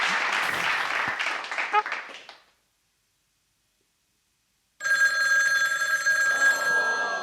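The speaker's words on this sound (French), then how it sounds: "C'est le téléphone qui sonne." At an interview and concert, a crowd claps and makes noise, then falls silent. After the pause, a telephone rings with a steady, loud electronic tone that keeps going to the end.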